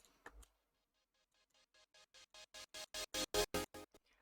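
A reversed sample in an electronic music track, swelling through a rhythmic series of pulsed hits that grow steadily louder before cutting off sharply near the end, following a brief plucked sound at the start.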